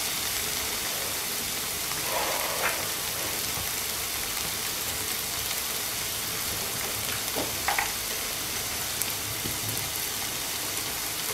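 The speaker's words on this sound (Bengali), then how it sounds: "পেঁয়াজটাকে হালকা করে ভেজে নেব আমি" Onion frying lightly in oil for a lady's finger dish, a steady soft sizzle throughout with a few faint stirring scrapes, no voices.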